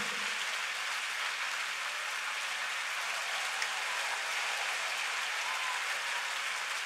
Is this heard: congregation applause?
yes